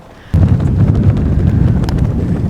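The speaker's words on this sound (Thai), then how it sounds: "มันลมแรงมากๆเลยนะคะ แล้วมันก็พัดเม็ดทรายเล็กๆอะค่ะ มากระแทกตัวเรานะคะ" Strong wind roars over desert sand dunes in Colorado, blowing fine grains of sand, a sudden loud gusty buffeting against the microphone that keeps rumbling on without any voices.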